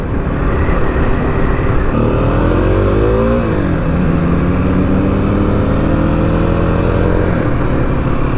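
A 2021 Kawasaki KLX300 rides on a highway, its single-cylinder engine droning loud and close while the revs climb, drop with a gear change, then rise and hold steady again under constant wind noise.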